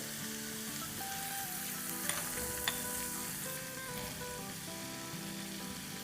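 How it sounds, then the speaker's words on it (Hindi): Chopped garlic and finely cut green chili sautéing in a pan, a steady soft sizzle and frying hiss throughout, with a couple of faint clinks partway through and no talking. "बस लहसुन को ब्राउन नहीं करना है, थोड़ा सा सौटे करना है।"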